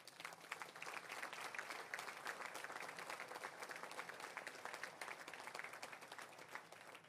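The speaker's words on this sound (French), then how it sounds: "vous pouvez les applaudir" An audience at a mayor's New Year greetings ceremony in Valence applauds, sustained dense clapping from a large crowd that stays steady and moderately loud for the whole stretch, with no speech over it.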